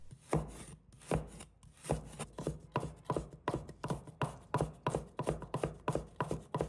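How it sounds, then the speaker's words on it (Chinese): A knife chops fresh ginger into strips on a cutting board, a steady, close run of crisp rhythmic strokes repeating roughly twice a second with no talking. "一块生姜，把它切成丝。"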